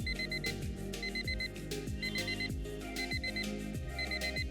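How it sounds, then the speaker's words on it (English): A phone alarm tune plays in a steady repeating pattern of beeping tones over a pulsing musical beat, continuous and moderately loud. "I have a series of alarms in my phone that goes off."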